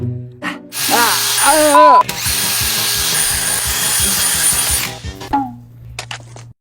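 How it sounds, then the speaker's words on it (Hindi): A power drill bites into a block of ice, a loud, whining, buzzing stretch in the middle, framed by voices and clunks before and after. "ऐसी एक ड्रिल है जो मेरा डेंटिस्ट मेरे दांतों के लिए यूज करता है।"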